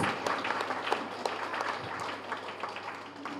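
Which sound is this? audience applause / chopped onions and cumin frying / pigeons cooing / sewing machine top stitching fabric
audience applause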